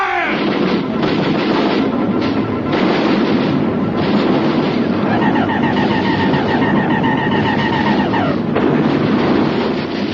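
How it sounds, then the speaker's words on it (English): Artillery batteries fire as a sound effect in a vintage radio drama, a dense, continuous roar of rumbling blasts and booms that fills the scene loudly, with a faint warbling tone running through the middle. "All batteries, repeat fire!"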